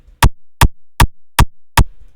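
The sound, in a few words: original kick drum punch sample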